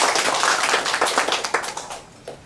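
An audience at a lecture applauds to welcome a speaker. The warm, fairly close clapping is full at first, then thins into scattered claps and dies away.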